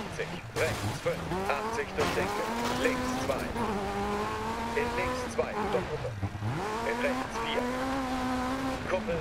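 Rally car engine in DiRT 4, a historic legends event in Australia, loud and close, rising and falling through repeated revs and gear changes with tyre squeal, while a person talks over it.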